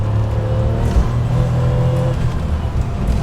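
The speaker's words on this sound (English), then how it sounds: "How often are you going to get to drive a 993 Turbo S just out in the open on a road like this?" A Porsche 993 Turbo S, the air-cooled sports car, drives on an open road, its engine a loud, steady close-up drone with a low throb and slight rising revs throughout.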